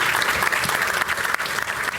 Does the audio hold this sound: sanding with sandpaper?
no